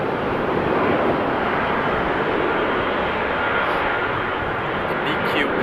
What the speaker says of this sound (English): Taxiing pretty fast for 777 then.